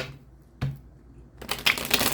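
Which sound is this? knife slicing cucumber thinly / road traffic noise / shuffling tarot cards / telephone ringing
shuffling tarot cards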